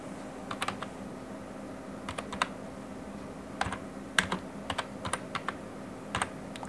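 Someone types text on a computer keyboard, soft clustered clicks arriving in short bursts with brief pauses between them, fairly quiet and close against a faint room hum.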